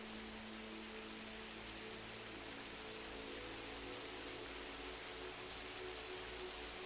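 Steady recorded rain mixed with binaural beats plays as a continuous broadband hiss with a low tonal hum beneath, constant and fairly loud throughout with no voices.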